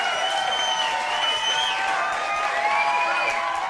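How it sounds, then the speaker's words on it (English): Festival audience clapping and cheering at an Independence celebration in Guyana, a dense steady wash of applause with whoops mixed in, loud and sustained throughout. "give him a big round of applause"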